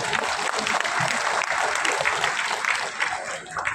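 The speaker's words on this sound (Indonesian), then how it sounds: "Jadi tepuk tangan untuk kita semua" Audience applause at the closing of an Indonesian modest fashion event, a broad wash of many hands clapping at moderate volume, steady throughout and easing slightly toward the end.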